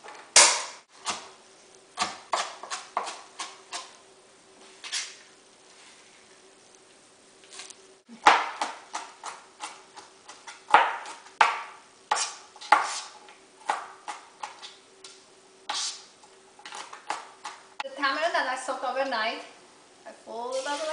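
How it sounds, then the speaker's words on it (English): Ingredients for a Persian fish stew (ghalyeh mahi) are chopped with a knife on a board, with irregular sharp taps in quick bursts and pauses, loud and near. Brief voiced sound comes near the end. "To get ready, I'm gonna start chopping."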